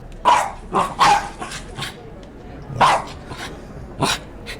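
A professional foley artist imitates a large dog with a voice, giving several short barks and yips in uneven bursts, with a collar jingling and running sounds suggested beneath.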